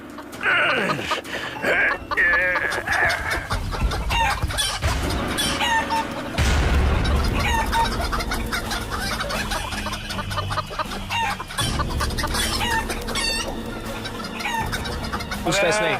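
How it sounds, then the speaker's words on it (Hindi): Clucking chickens and roosters, with a rooster crowing amid dense, loud, close flock noise during an outdoor stunt, while people talk over the birds. "मुर्गा कैसे खा रहा है उसके फोरहेड पे।"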